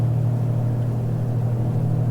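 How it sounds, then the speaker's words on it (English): Twin engines of a Piper PA34 Seneca V in a flight simulator throttling back after takeoff, a steady, loud, low droning hum that holds even and unbroken. "we'll put the RPM back a bit and throttle back a bit to reduce our manifold pressure"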